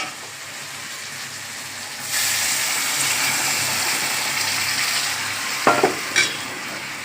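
Hot water poured into a prawn curry with potato and pumpkin frying in ghee in a pan, a loud rushing sizzle surging up and holding steady, with a couple of brief utensil knocks near the end.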